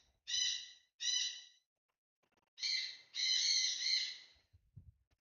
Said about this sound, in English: I'm sorry those birds are squawking so damn loud